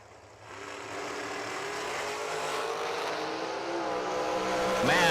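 K&N Pro race cars roar around the track, engines droning and building steadily louder as the pack closes in, a sharp rising rev near the end.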